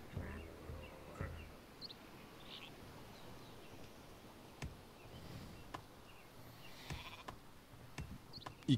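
Sheep bleat in the strategy video game Northgard, a few short, faint bleats and occasional clicks scattered over a quiet ambient background with soft game sounds.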